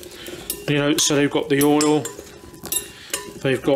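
Spiced potatoes being tossed in oil in a metal pan or dish, giving repeated clattering, scraping clinks with bright ringing overtones, close and fairly loud, with a brief stretch of talk partway through.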